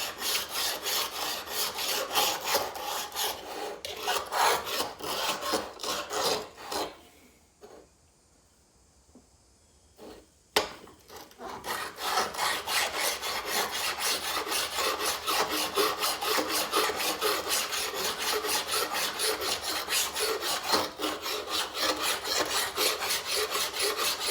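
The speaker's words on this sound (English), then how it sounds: "So I'm just going to see if I can smooth the mating surfaces a little bit." A file scrapes across the mating surfaces of loppers in rapid, rhythmic strokes, close and continuous, pausing for a few seconds midway before resuming steadily.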